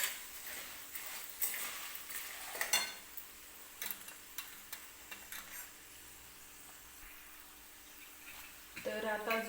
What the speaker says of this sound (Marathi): त्या सुद्धा मी तेलामध्ये टाकून घेणार आहे. व्यवस्थित परतून घ्यायचं आहे.